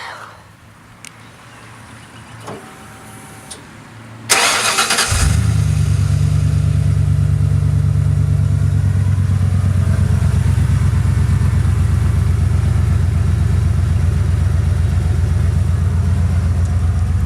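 A Ford F-150 pickup truck engine turns over and catches after a few quiet clicks, then settles into a loud, steady, throaty idle that continues close by.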